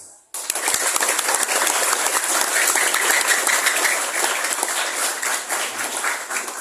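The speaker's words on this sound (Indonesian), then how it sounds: "Tepuk tangan yang lebih keras" Loud, dense applause from an audience at a Hindu dharma discussion session, starting abruptly and holding steady for several seconds as the crowd claps harder on request.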